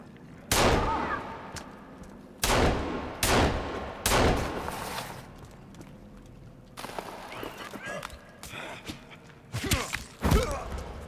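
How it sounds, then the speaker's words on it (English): Pistol shots ring out in the video game Sons of the Forest, several loud sharp cracks spaced irregularly with rustling movement and softer thumps in between. "I'm going to grab my pistol."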